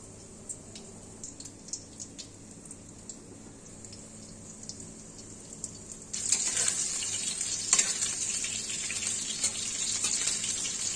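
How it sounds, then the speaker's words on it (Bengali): Amudi fish pakoras frying in hot oil, a faint low sizzle that jumps into a louder, denser hiss partway through and keeps crackling steadily. "খুব সুন্দরভাবে লাল লাল করে ভাজা হয়ে গেছে"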